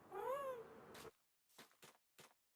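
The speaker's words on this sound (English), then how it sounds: "What, the cat's in the background?" A house cat lets out a drawn-out, rising and falling meow in the background, followed by a few short scuffling or tapping noises with quiet gaps between.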